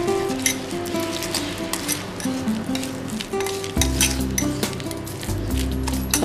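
Soya chaap pieces are stirred into marinade in a metal bowl, producing repeated clinks and wet stirring scrapes over quiet background music, with no talking.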